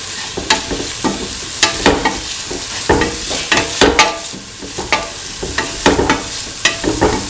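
Green chili is stir-fried with tofu rice in a pan, with a spatula scraping and tapping in quick, uneven strokes over a bright sizzle. The busy clatter is close and loud, and there is no talk.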